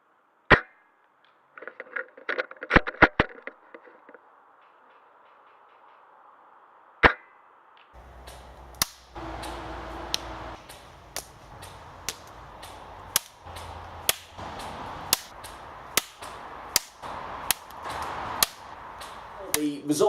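An ARES Amoeba Striker airsoft rifle fires 0.3 gram BBs outdoors in extreme cold with snow on the ground. A few scattered sharp cracks come first, then a steady run of single shots about a second apart over a low background.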